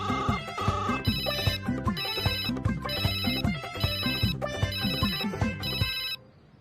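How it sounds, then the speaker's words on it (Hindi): A phone ringtone plays a repeated melodic tune several times over a steady beat, then cuts off abruptly near the end. "लो घंटी जा रही।"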